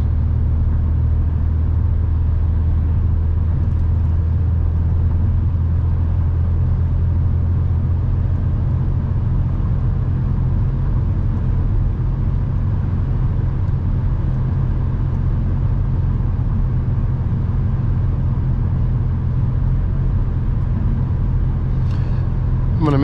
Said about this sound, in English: This Jeep to my right is really starting to pick up and accelerate.